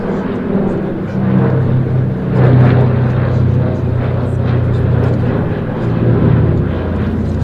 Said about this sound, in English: Back with the floats down now for another pass.